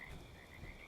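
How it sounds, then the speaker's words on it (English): Frogs croak steadily in the Fallout 76 game world, a faint, continuous chorus of repeated calls with no talking over them. "I hear frogs."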